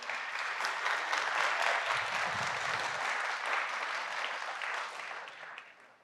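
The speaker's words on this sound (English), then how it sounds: "One more round of applause for them if we could." An audience at the 2022 J. Terrell Brown Venture Challenge gives a round of applause to supporters, steady moderate clapping from a crowd that tapers off at the end.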